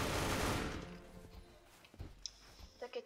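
Gunfire rings out in a Roblox Squid Game round, starting with a loud burst that fades, then a few scattered sharp shots amid game sounds as a voice speaks.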